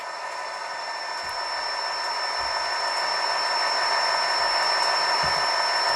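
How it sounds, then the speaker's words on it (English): Rapido HO-scale EMD GP40 locomotive's LokSound DCC prime mover sound, running as a mother-and-slug set, holds a steady electronic diesel drone with a constant high whine, slowly building in loudness as it notches up, with no talk. "You hear the prime mover kick up a notch."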